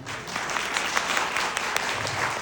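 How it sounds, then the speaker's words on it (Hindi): Steady applause from an audience, dense clapping that fills the space at an even level without breaks. "जब भी मेरी बात अच्छी लगे दोस्तों मुझे तालियों से बता दीजिए।"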